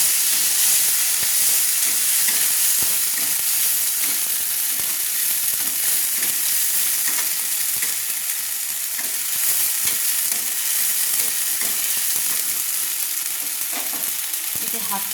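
A paste of ground cumin and ginger fries in a pan while being stirred, giving a loud, constant hiss and sizzle close by, with faint scraping underneath and no speech.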